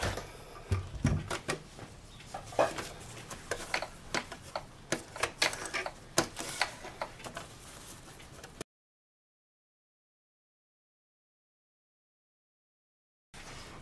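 A sewing machine stitches a fabric wallet in quick, rattling bursts for several seconds, fairly quiet, then stops into silence.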